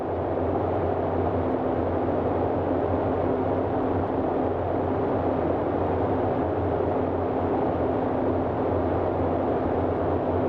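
Engines of a Boeing 247D throttled back in MSFS 2020 produce a constant, loud, low droning hum with a steady tone, unchanging throughout and with no talking.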